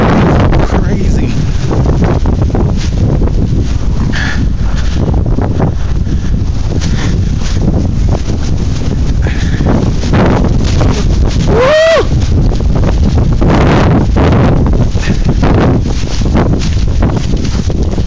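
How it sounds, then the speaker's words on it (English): Strong wind roars through the 2011 Chicago blizzard, a loud, constant buffeting rush that batters the microphone for the whole stretch, with a brief voice briefly audible beneath it. "I don't know if you can hear the wind, but it's crazy."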